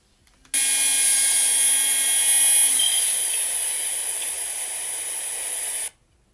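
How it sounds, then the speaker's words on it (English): A steady, high-pitched electric whine from a small electric nail drill, starting abruptly, running at constant speed for several seconds, then cutting off. "So you can hear how strong this drill is."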